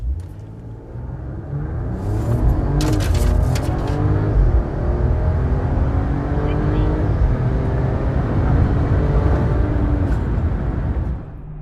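A 2026 RAM 1500 HO Hurricane pickup with an 8-speed transmission and 3.92 rear axle accelerates hard. Its engine note climbs steadily in rising sweeps through successive gear changes, loud and close, holding a strong rumble before easing off.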